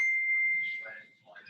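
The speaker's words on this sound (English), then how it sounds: "who's got the loud bell?" A loud bell dings during a group call, one sustained bright ring that hangs and slowly fades while a voice murmurs faintly underneath.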